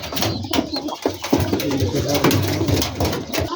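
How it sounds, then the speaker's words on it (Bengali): Rajshahi Giribaz pigeons coo repeatedly nearby, soft throaty rolling calls overlapping one another in a busy, continuous murmur. "খুবই বড় বড় এবং ঘন বাজের কবুতর"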